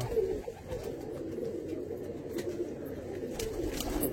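Pigeons cooing in a loft kept by a breeder of Andhra pigeon bloodlines, a soft, steady low murmur of cooing that runs continuously and close by, with a few faint higher sounds over it and no talk.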